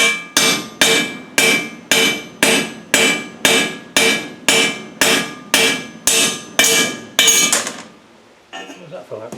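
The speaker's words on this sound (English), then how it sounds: "I'm going to tap that in so it seats in nice." Hammer tapping a bush into an axle pinion housing, about fifteen sharp metallic strikes at a steady one-per-half-second rhythm, loud and close, ending in quieter shuffling.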